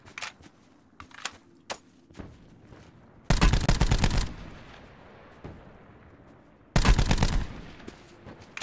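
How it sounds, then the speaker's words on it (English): Call of Duty Blackout gunfire: scattered sharp single cracks early on, then two long loud bursts of rapid automatic fire a few seconds apart, with softer echoing tails between them. "That guy just took a lot of shots."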